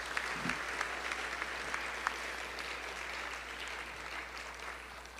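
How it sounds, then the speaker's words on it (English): Audience applause at a high school senior awards night, a steady, even wash of clapping from a seated crowd, moderately loud and sustained throughout with no talking over it. "let's give them a round of applause"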